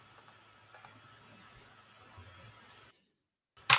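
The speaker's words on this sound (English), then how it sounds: "Sometimes you hit the keyboard." Computer keyboard keys are tapped in a few light, scattered clicks over quiet room noise, then a brief silence and a sudden louder knock at the end.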